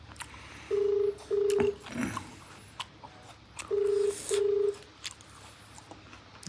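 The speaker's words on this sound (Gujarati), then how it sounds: "વિક્રમને પહેલાં ફોન કરી દઈએ" A telephone ringback tone sounds twice, each ring a pair of steady beeps, with quiet gaps and faint background noise between.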